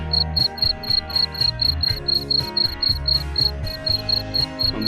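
Crickets in a breeding box chirp in a rapid, steady pulsing trill, many short bursts repeating evenly and close, with a low rhythmic background hum beneath them.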